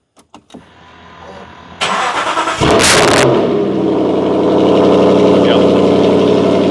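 A few clicks, then an old-school supercar engine cranks and fires into a loud roaring cold start, settling into a high, steady idle up close.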